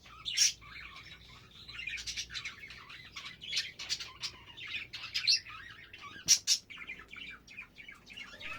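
Pet budgies in an aviary chirp and chatter continuously, a busy flock of high, bright tweets with a few louder squawks standing out close by.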